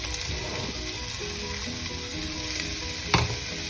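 Onions sizzle steadily in a hot pan alongside shallots and garlic, a continuous close frying hiss with a brief louder burst near the end, no voices.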